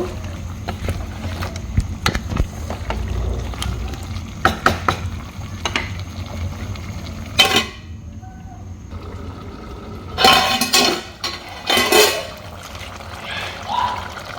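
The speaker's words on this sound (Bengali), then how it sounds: "দেখেন আমি এখানে মিষ্টি কুমড়ো দিয়ে দিচ্ছি। একটু নেড়ে চেড়ে আমি ঢেকে দিব।" Sweet pumpkin cooked with shrimp in a pan, stirred with wet scraping and clattering strokes over a low cooking hiss, with a few louder bursts of stirring and brief pauses.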